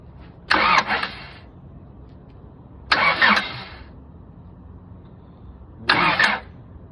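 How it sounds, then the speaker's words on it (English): A Honda Prelude with a swapped H23A engine cranks on the starter to prime its oil system, three separate short bursts of whirring starter grind spaced a few seconds apart, close and loud, with no talk. "We're just gonna run it, or just gonna prime the oil system."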